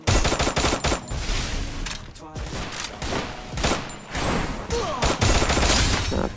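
Rapid bursts of gunfire from the Free Fire mobile battle royale game, loud repeated automatic shots in quick clusters across the whole stretch, with game sounds and no clear talk.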